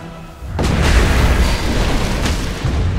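A tower collapsing in Dota 2 hits with a sudden booming crash, then a loud rumbling explosion that rolls on and holds steady, with a second burst toward the end.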